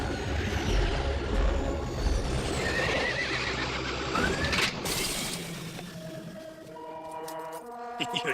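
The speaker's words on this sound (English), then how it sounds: "You're scaring the horses." Cartoon horses neigh and whinny loudly up close, with shrill calls over clopping and mechanical clatter, then the scene shifts to tonal electronic beeps toward the end.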